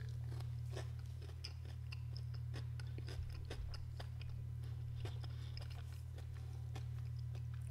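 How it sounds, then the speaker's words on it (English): Someone chews a blueberry white chocolate THC edible, soft wet crunching and biting sounds close to the mic over a constant low electrical hum, with no talking. "Let's pop one of these in my mouth and see how it tastes"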